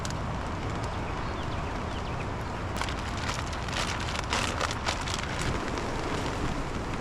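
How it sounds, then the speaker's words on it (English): Raindrops pattering on a roof overhead during an approaching storm, a dense, steady hiss with scattered brighter drop hits, mixed with gusty wind. "I can hear drops on the top."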